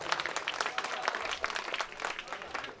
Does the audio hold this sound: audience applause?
yes